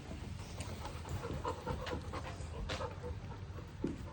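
A nine-week-old puppy pants steadily and close by in a quiet room, breathy rapid huffs with a small whimper-like sound near the end.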